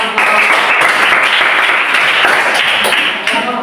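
Classroom of students applauding a group of pupils after their presentation, a dense steady burst of many hands clapping together, loud and close, lasting the whole moment before tapering off.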